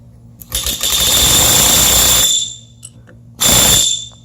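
A pneumatic rivet gun sets a rivet in a countersunk hole with two loud, sustained bursts of buzzing hammering, the first about two seconds long and the second shorter after a pause, close by with a shrill whine.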